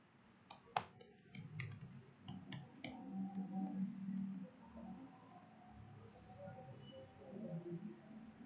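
A computer keyboard is typed on in a short, quick burst of sharp clicks near the start, followed by quiet room noise with faint murmuring.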